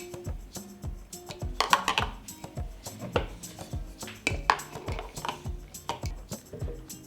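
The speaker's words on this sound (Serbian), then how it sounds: "na dno stavljam krpu u kojoj ćemo kuvati tegle i unutra stavljam i tegle" Glass jars set one by one into a cooking pot lined with a cloth on the bottom, giving repeated close clinks and knocks of glass against glass and metal, with no talking.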